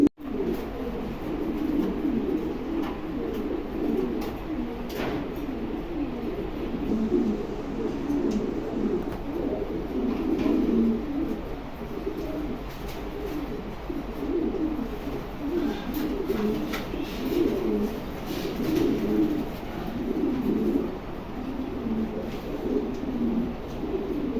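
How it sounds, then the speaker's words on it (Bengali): King pigeons coo continuously in a loft or market pen, a dense, layered murmur of low rolling calls from many birds close by, steady throughout with no talking. "চমৎকার কবুতর, এই কবুতরগুলো পাওয়া যায় না"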